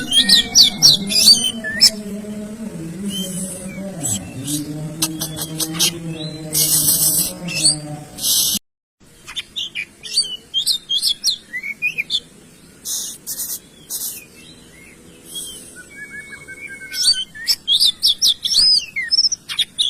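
Caged songbird out in the sun during training, giving repeated bright chirps, tweets and squawks at close range, with a low steady background hum through the first half and scattered calls continuing after a brief gap.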